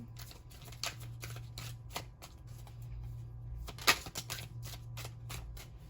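Cards are riffled and shuffled repeatedly in quick crackling bursts, close up, with a louder snap near the middle and no talking.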